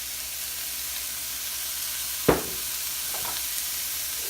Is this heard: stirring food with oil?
yes